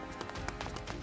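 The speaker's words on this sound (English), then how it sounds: "In the distance, the sounds of running engines and footsteps draw us closer." Running footsteps heard as a quick, even run of thuds over a dense, noisy background, likely in a game scene with engines running nearby.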